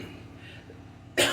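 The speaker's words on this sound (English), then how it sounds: "I'm coughing because this stuff is very toxic" A single short, harsh cough bursts out at the end after quiet room noise, from someone irritated by toxic spray while preparing a bathtub and shower for caulking.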